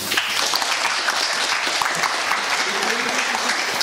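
An audience at a comics convention panel applauds, a short burst of steady clapping with some murmuring voices underneath.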